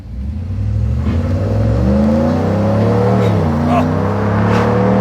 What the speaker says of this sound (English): It sounds so much better than that giant freaking water tank of an exhaust pipe